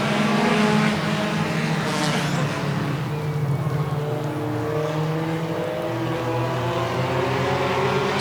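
Race cars thundering around the track on a green-flag restart at a feature race night, with loud overlapping engine roar and rising, shifting pitches as cars accelerate and pass, continuous throughout.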